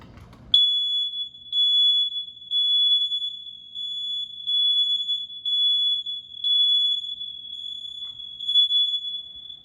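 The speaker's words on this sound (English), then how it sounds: "you heard all those alarms going off upstairs. That's a good sign that they're all linked" Several linked high-pitched electronic smoke alarms shriek in repeated pulsing bursts, steady and piercing, sounding somewhat muffled from an upstairs floor of a house.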